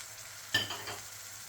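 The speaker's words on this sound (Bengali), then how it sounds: "এবার এটা 1 মিনিটের জন্য আপনাকে কষিয়ে নিতে হবে।" Dry spice mix for a Bengali makha dish being sautéed in a pan, a brief burst of sizzle and a single scrape as it is stirred, then a low steady hiss fading quietly.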